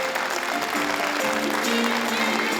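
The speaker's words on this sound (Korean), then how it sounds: "박수 같이 쳐주시고" A crowd claps together in sustained applause at a regional committee launch ceremony in Gyeongsangbuk-do, Korea, dense and fairly loud, with some voices faintly mixed in.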